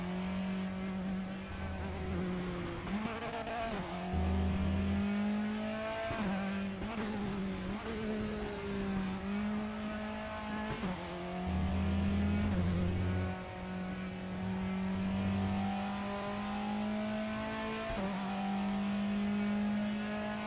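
Race car engine in the RaceRoom racing game holding a steady high drone, with repeated revs dipping and climbing at gear changes over about twenty seconds, loud and continuous with no talking.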